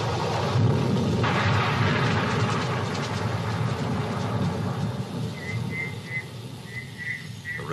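A fierce savanna thunderstorm with heavy rain pours steadily while deep thunder rumbles loudly, the downpour dense and continuous with faint bird or frog calls near the end.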